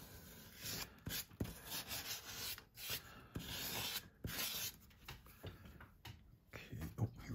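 Dried craft medium gets scraped up from a surface in rough, uneven rubbing and scratching strokes, close and fairly quiet, with short gaps between passes.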